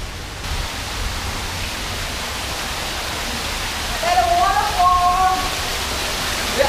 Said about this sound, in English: we're under a waterfall, we know it